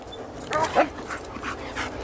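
A working dog in training inside a building in Israel gives short whimpering yelps and a brief bark, close by and fairly clear, with light panting and room noise around it.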